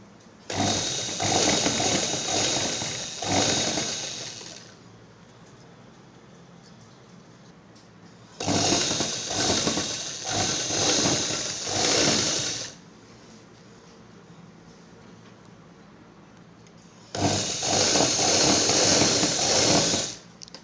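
An electric sewing machine stitches a fall onto a saree in three bursts of fast, steady whirring, a few seconds each, with quiet pauses between them.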